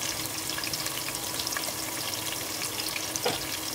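Sliced onions and green chilies fry in hot oil with a steady, dense sizzle that holds at an even level throughout, close and continuous with no voices.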